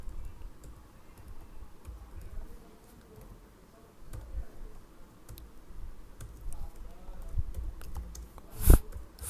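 Computer keyboard typing Java code, scattered soft keystrokes over a low background hum with one sharp click near the end, faint and close, no talking.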